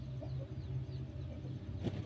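Hens clucking on a farm, soft low repeated clucks at a moderate distance over a faint background hum, ending with a brief louder rustle.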